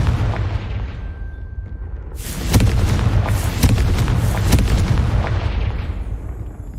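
A Confringo spell explosion in the Hogwarts Legacy video game: a loud booming blast that breaks out suddenly after a quiet hum, followed by several more rumbling bursts and crackles.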